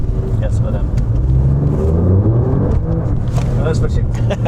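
An Alfa Romeo Giulia Quadrifoglio with a 510 hp engine accelerates hard, a deep, rising exhaust rumble heard from inside the cabin under people talking.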